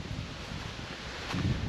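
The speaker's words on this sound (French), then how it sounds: "Et là c'est agréable, il y a un petit vent" Light breeze along a canal near Béziers, a steady soft hiss of wind with faint rustling, a slightly stronger gust toward the end, no voices.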